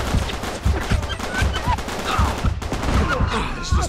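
Sniper gunfire in the video game Uncharted 3, a dense fusillade of loud sharp shots cracking at irregular intervals over a busy battle din, with voices faintly mixed in.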